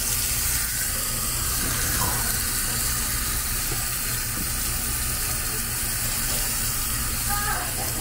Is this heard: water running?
yes